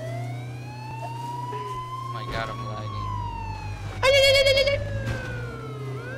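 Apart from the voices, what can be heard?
police car sirens in the video game H1Z1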